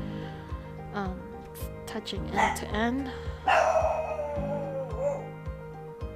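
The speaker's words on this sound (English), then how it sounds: "Oh, excuse my dogs" Dogs barking and yipping in short bursts over quiet background music, while a person talks nearby.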